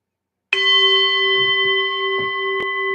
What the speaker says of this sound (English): Bob, ring the bell.